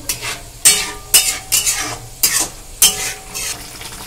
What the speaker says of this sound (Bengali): এই মশলাটাকে এবার ভালো করে কষাতে হবে।